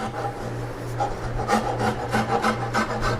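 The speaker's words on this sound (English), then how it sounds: "I took a rasp here and rounded over" Steel rasp shaping and rounding over the sharp edges of a wooden ball-and-claw high chest furniture leg, a steady rubbing, scraping rasp with repeated strokes, close and fairly loud with no talking.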